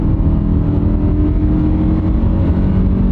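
A small Honda SUV engine floored at full throttle from about 50 mph, a loud steady drone with road and wind noise, heard from inside the cabin with no talking.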